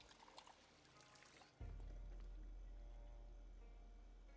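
Water pouring into an empty bowl in the video game Project Zomboid, a short trickling splash followed by a low steady filling sound that gradually rises in pitch, faint and without talk.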